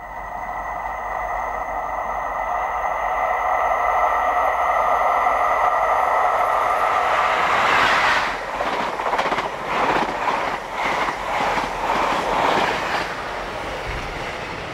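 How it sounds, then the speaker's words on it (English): Class 87 electric locomotive hauling a train up the bank at Scout Green, starting as a steady, tonal motor whine and then passing close with loud, rhythmic wheel clatter over the rails, no voices. "A Class 87 speeds up the climb as if it were not there"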